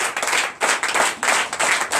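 A church congregation claps in loud, close bursts at a night deliverance and prophecy service, surging in waves with brief dips between rounds of rapid hand claps.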